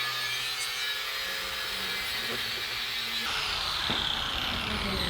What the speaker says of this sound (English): I'm just gonna be cutting these legs off with the grinder